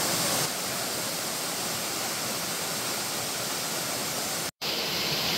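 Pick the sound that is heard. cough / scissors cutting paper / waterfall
waterfall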